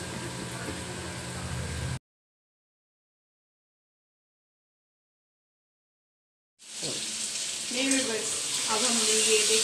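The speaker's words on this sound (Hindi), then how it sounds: "अब हमने ये देखें प्याज डाल दिया, इसको ज़रा सा ब्राउन करेंगे" Onions frying in a pan until browned, the steady sizzle cut off by a long silent gap before returning louder with stirring scrapes.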